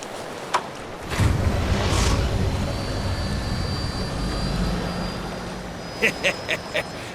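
An airplane engine in Final Fantasy 7 Rebirth spins up into a steady roaring drone that holds for several seconds, followed by a few sharp clicks near the end.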